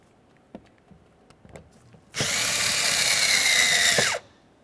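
A power drill fitted with a 7mm socket drives window regulator mounting screws in a 2001-2005 Ford Explorer Sport Trac: faint taps, then a steady, loud two-second whir that stops abruptly, with nobody talking.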